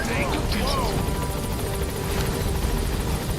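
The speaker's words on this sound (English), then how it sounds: "Support helicopter has arrived." A support helicopter in the Metal Gear Solid V video game arrives with a loud, steady rotor drone and rhythmic blade chop filling the scene.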